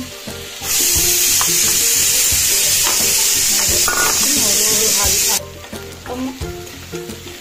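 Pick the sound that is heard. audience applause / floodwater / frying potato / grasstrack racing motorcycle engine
frying potato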